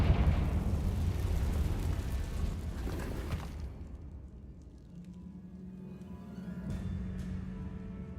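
A Confringo fire spell in Hogwarts Legacy bursts in a cave, a loud, roaring explosion that rumbles for several seconds and then fades into a low, steady hum with faint crackles.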